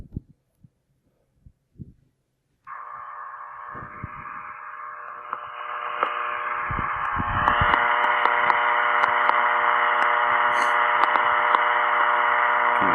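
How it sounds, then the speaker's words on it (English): A Morse encoder gives a steady, buzzy electronic tone that starts after a few scattered clicks and then runs unbroken to the end, growing slightly louder partway through. "So that's what the Morse encoder sounds like."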